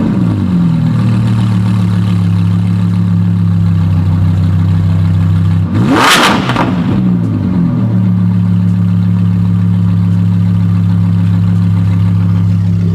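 An Audi R8 engine revs to 3,000 RPM: a loud, steady idle hum rises into a single sharp rev that swells and drops back to idle, with no talking.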